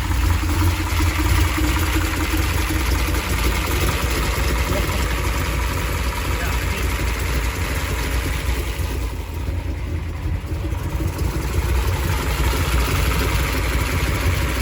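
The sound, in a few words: 1967 Shelby Cobra 427 engine idling, lifters ticking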